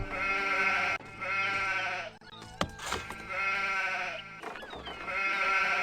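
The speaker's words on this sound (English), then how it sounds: "Can someone shut the sheep up?" Sheep in the city-building video game Anno bleat loudly and repeatedly, long wavering calls overlapping one another in quick succession with a few short clicks between them, no talk.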